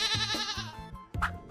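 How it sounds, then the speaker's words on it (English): A goat bleats in a children's cartoon about farm animals: one long, wavering, nasal bleat fills the first moment, followed after a brief pause by a couple of shorter, sharper calls, all close and loud with no talking. "It's a goat."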